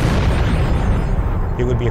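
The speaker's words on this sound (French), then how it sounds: "Quand soudain, c'est l'explosion." A documentary explosion effect depicting a catastrophic blast at the end of the Earth: one loud, continuous, deep roaring rumble that fills the whole moment and stays heavy throughout.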